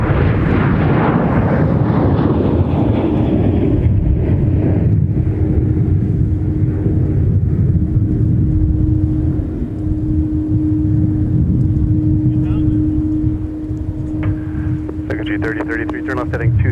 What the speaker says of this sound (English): So that Boeing converted freighter